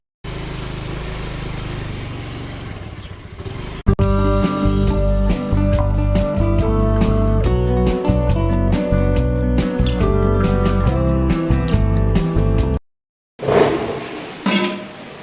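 A Honda Activa scooter rides out on a short errand to fetch milk. Its engine hums in a steady, buzzing drone that starts suddenly and rises and falls a little, then cuts off abruptly near the end.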